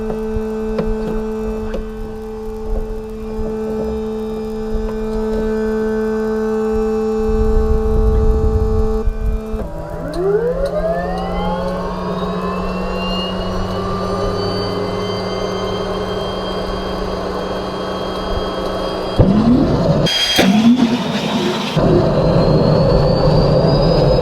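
A jet engine doing a rich start with the fuel then cut off, heard from close by. A steady loud hum gives way to a rising turbine whine that settles into a sustained roar, and a burst of harsher noise follows near the end.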